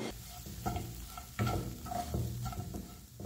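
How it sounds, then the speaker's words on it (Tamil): Bread being stirred in ghee in a pan for bun halwa, with soft repeated scraping strokes of a spoon over a gentle, steady sizzle, close and quiet with no talk. "நல்லா இந்த பிரெட் எல்லாமே இந்த நெய்யோட நெய்யாக மிக்ஸ் ஆகி நல்லா உதிரியாகிற மாதிரி கிளறி விட்டுக்கலாம்"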